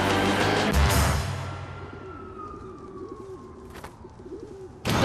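Cartoon pigeons coo in a repeating wavering pattern, several throaty calls rolling one after another at moderate loudness, with a thin falling whistle-like tone behind them and a sharp burst at the start and end.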